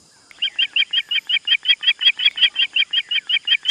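A cartoon crow imitates another bird's call, giving a fast, evenly spaced series of about twenty bright chirping notes, close and clear without talk.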